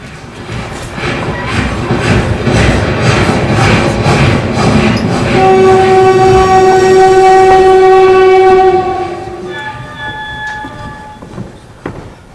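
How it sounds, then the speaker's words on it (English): A train sound effect plays on stage in a theatre play: a steady rumbling roll of a moving train, then a loud sustained horn blast that changes to a second tone before fading, with no talk. "The train leaves the station in 20 minutes."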